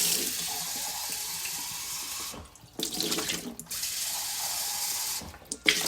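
Tap water runs in a steady hissing stream into a coffee maker in a home kitchen, broken by two short pauses as the flow is interrupted and then resumes.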